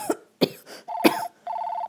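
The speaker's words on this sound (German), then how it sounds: "Ich habe ganz dollen Husten." A child coughs in a few short, sharp bursts, separated by brief pauses, close and fairly loud, followed by a steady electronic tone.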